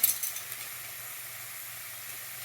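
Carrots, shallot and garlic sauté in a pan, giving a quiet, steady sizzling hiss throughout with a few faint clinks near the start.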